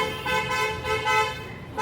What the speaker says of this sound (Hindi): कितनी आवाज़ आ रही है रोड पर